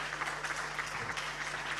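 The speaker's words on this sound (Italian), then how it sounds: "Un applauso per Nicola Carabba." Applause from the audience at a Veneto Paralympic sports gala as an athlete receives a bronze star for sporting merit, with a brief, steady wash of clapping and a low hum underneath.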